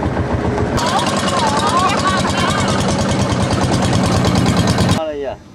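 A long-tail boat engine on Inle Lake, Burma, drones loud and close with a steady throbbing rumble, a voice faintly beneath it, before the noise abruptly cuts away near the end.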